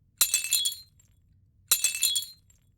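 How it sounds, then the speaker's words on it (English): Two separate bursts of glass cracking and breaking, offered as a subtle windshield crack effect, each a sharp bright crunch with a short tinkling tail, quiet and alone with no talk. "I just want a slight cracking"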